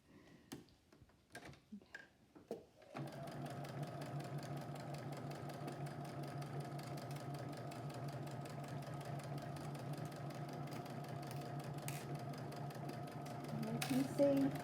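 A sewing machine runs steadily while stitching fabric along the edge of the presser foot for a tote bag, a continuous even whir that starts after a few seconds of faint handling sounds and carries on alone.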